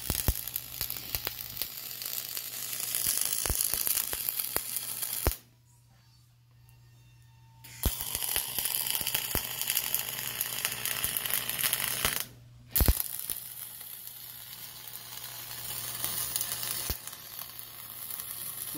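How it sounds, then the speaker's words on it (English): Dual shield flux core wire welding crackles and sizzles in long steady runs, close and loud, broken by two pauses of near silence. "I'm going to weld it together with dual shield. It's a flux core wire that also has a gas shielding"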